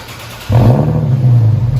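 Infiniti G37X all-wheel-drive with the 3.7L V6, muffler and resonator deleted so it runs straight-piped, revs hard from idle: a sudden loud, raspy, deep exhaust blare that holds a steady rumble with slight rises and falls.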